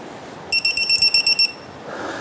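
Electronic torque wrench alarm while tightening a control arm bolt on a 1997-2006 Jeep Wrangler, a rapid series of about nine sharp, high beeps lasting about a second over low workshop noise.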